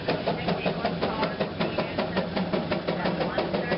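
A Case tractor engine runs steadily as the machine climbs a wooden incline ramp on studded rear wheels at a threshermen and collectors show in Albert City, Iowa, giving a loud, close, rhythmic chugging beat throughout.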